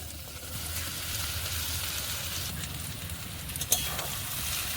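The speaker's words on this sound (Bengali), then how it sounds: "এরপর আমি ভেজে রাখা কচুগুলো দিয়ে দেব" Pre-fried taro pieces cooking in a vegetarian spice masala in a pan, giving a steady, low, continuous sizzle with one brief clink near the end and no talking.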